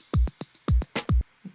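A groovier electronic drum sample loop from Ableton, with a syncopated pattern of deep kicks, sharp snare hits and ticking hi-hat accents, closely heard with no talking.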